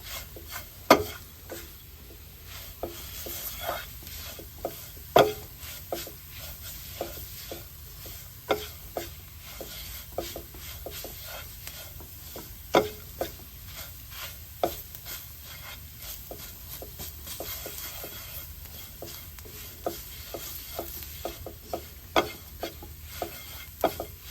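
Spoon stirring a duck curry mixture with tomato in a pan, a steady run of close, small scraping clicks and taps over a soft continuous sizzle, with no talking.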